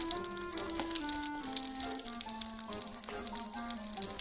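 Mustard seeds, cumin and Kashmiri red chili sizzle in hot mustard oil for a parwal sabzi, a steady, fairly faint crackling hiss under a melodic music track.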